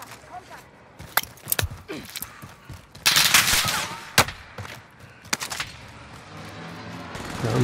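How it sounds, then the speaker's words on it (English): Gunfire crackles through a battle royale video game in sharp, close single shots and short bursts, with a louder stretch of rapid fire in the middle. A player's voice talks over parts of it. "Taking heavy fire here!"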